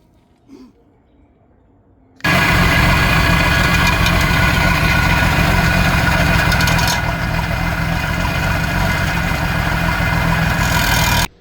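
After a quiet moment, the engine of a 1980s Bronco boat starts up and settles into a loud, steady idle rumble that continues before cutting off at the end.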